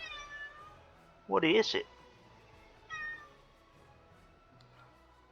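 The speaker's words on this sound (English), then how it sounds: "Oh, there's my cat." A pet cat meows loudly once nearby, then gives a second shorter meow, over a faint hum, with a brief spoken question in between.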